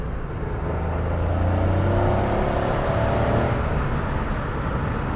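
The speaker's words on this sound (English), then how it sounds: "You quickly downshift to second." A Suzuki Alto Turbo RS engine revs up while downshifting into second gear, a loud, sustained rising whir heard from inside the car with no talk.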